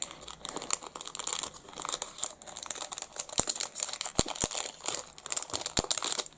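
Sticky plastic packaging is peeled and crinkled off a craft kit item, producing busy crackling and tearing close up with a few sharp snaps.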